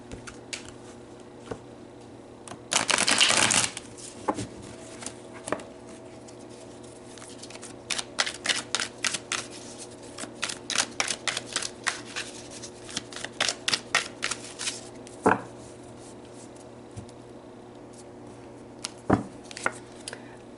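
Tarot cards are shuffled and pulled close by, a quick riffle burst followed by a long run of rapid, crisp card snaps and flicks, then a few scattered taps, with no talk.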